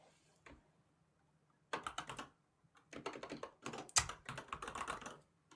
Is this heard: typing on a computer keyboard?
yes